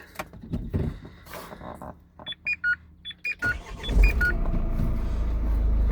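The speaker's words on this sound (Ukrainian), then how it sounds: "Заведемо автомобіль." Inside a 2022 Renault Master van with a 2.3 dCi diesel, a series of electronic chimes sounds before the engine cranks and catches, settling into a steady low diesel rumble.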